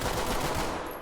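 Rapid video game gunfire rattles in a dense, continuous burst, loud and close, filling the whole second with no talking over it.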